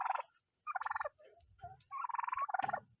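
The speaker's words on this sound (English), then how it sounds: "look at these turkeys poofing up" Several turkeys gobbling near by in rapid, rattling bursts, with four or five loud gobbles broken by short pauses and some low clucking in between.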